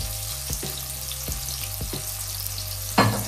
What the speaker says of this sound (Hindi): देखिए अब हाई फ्लेम पर 2 से 3 मिनट अच्छे से फ्राई कर लेते हैं